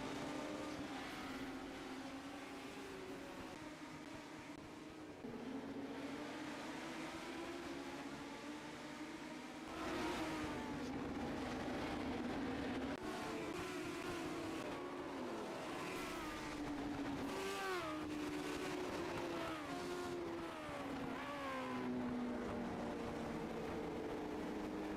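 Several race cars come off the banking of an oval track in a USRLA double-header event, their engines droning steadily at mid-distance with rising and falling pitch as cars pass, louder passes building in the second half.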